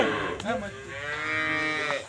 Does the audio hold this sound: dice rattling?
no